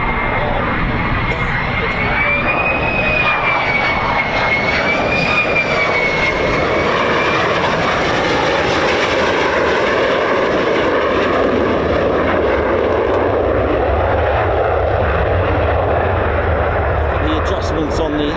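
A US Air Force F-35A fighter jet at RAF Lakenheath roars continuously, loud and sustained, with a steady broad engine rumble and a faint whine that stays dominant throughout.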